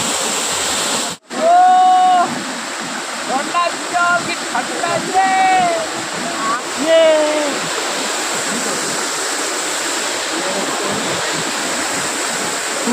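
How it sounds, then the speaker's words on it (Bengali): Steady roar of a waterfall in the Ayodhya hills of Purulia, water pouring over rocks and rushing out, constant and close, with a brief dropout near the start and birdsong chirping faintly over it. "জাস্ট ঝর্নার আওয়াজটা শুনুন"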